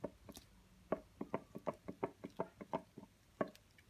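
A worn, cracked rubber crank pulley on a BMW M57 diesel engine gives off a faint, uneven series of dull knocks and clunks, about a dozen over four seconds, when the part is moved by hand.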